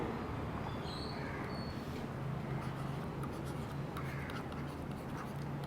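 A pen or pencil scratches faintly across paper in short strokes, quiet and close, with a soft background hiss.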